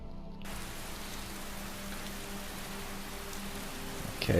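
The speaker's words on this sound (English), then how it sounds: "Okay, it is raining again." Steady rain falling in Skyrim, starting abruptly after a brief quiet moment and continuing as an even hiss of drops on surfaces, soft and constant, with a short sharper sound right at the end.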